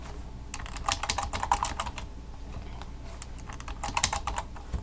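Rapid clicking on a computer keyboard, typed in bursts of keystrokes at close range with short pauses, alone and without speech.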